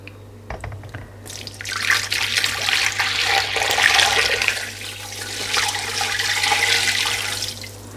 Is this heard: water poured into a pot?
yes